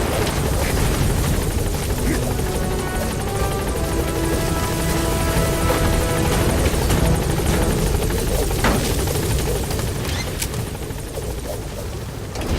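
A helicopter in the video game Metal Gear Solid V: The Phantom Pain roars close and loud as a steady, dense rotor-and-engine drone that fills the whole stretch without letup.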